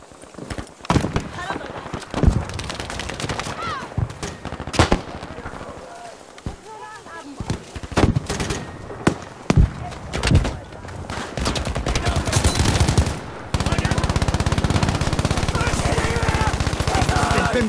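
Rapid automatic LMG fire and other gunshots from a Battlefield 5 match crackle in repeated bursts, loud and close, with a steady roar of sustained fire toward the end; players talk over the shooting.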